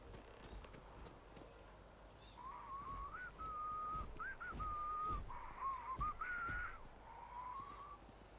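Melodic whistling in the video game Starfield, a clear wavering tune that starts a couple of seconds in and continues in phrases over quiet background footsteps, with no talk.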